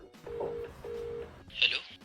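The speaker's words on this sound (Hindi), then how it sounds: "ये फोन लग गया।" A short steady telephone tone sounds twice, then a brighter electronic chirp follows, with faint talk underneath.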